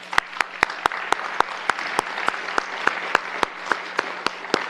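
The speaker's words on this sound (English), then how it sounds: "So we'll give her a round of applause." An audience applauds at a board of education meeting, steady clapping with sharp individual claps standing out, moderately near and lasting the whole stretch without talk.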